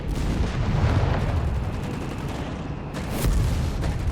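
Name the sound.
Stuka dive bomber attack in Company of Heroes 3 video game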